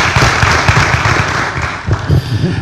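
A loud, close burst of audience applause greets a speaker at a Raise Pigs Right event broadcast live, with thick continuous clapping and some thumping low accents throughout.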